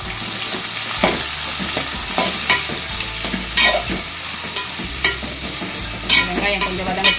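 Chopped onions sizzle and fry in a pan for a vadacurry, a steady crackling hiss with repeated utensil stirring scrapes and clinks throughout.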